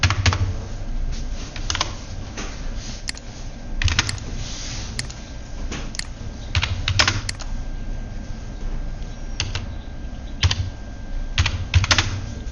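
Keys clatter on a computer keyboard as text is entered, in irregular bursts of sharp clicks with short pauses between, close and fairly loud with no talking.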